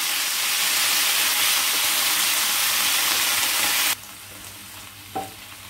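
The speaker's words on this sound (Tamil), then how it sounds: "புதினா வந்து ரொம்ப வதங்க வேண்டாம், கொஞ்சம் வந்து சுருங்கி வந்த உடனே நம்ம எடுக்கிறோம்." A bunch of mint leaves sautéing in a pan gives a loud, steady sizzle for about four seconds, then drops to a quiet background with one brief clink.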